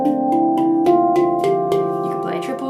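A handpan rings out with a steady run of struck notes played in double strokes, each tone sustaining and overlapping the next in an even, flowing rhythm.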